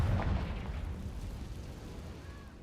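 A Confringo blasting spell going off in Hogwarts Legacy gives a dense, rumbling burst that starts loud and decays slowly over a couple of seconds, with a faint tonal whine near the end.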